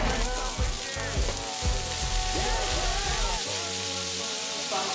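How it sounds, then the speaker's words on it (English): Steady sizzling of mixed vegetables, onions and peppers frying in hot oil, loud and close, with occasional stirring clatter and a faint background voice. "So now we're going to start frying it."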